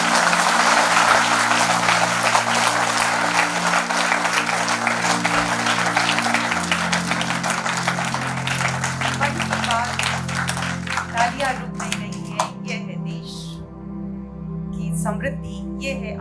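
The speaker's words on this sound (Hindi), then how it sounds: "तो सबसे पहले हम तालियों की गड़गड़ाहट के साथ शुरुआत करेंगे चंद्रयान" Thunderous audience applause at a seminar celebrating the Chandrayaan moon mission, a dense, sustained wash of clapping that thins toward the end, with a held musical tone beneath it.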